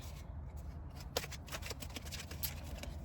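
Tarot cards being shuffled by hand in a quiet room, a soft continuous riffling and rubbing with a few sharper slaps, close and fairly faint.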